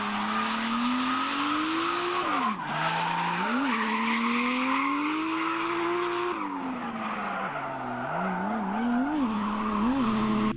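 A drift car slides around a carousel corner with angle and a touch of handbrake, its tires squealing loudly and continuously while the engine note wavers up and down close by.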